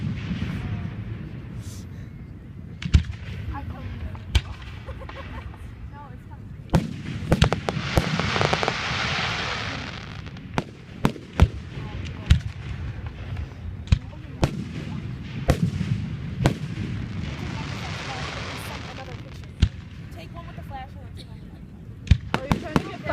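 Fireworks at a high school display burst repeatedly from a distance, sharp cracks and booms scattered irregularly with a couple of longer crackling swells, while people chat nearby.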